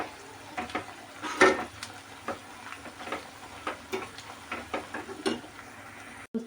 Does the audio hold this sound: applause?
no